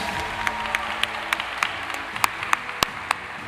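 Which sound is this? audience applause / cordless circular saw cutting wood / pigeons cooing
audience applause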